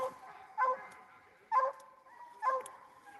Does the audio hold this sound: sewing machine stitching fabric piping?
no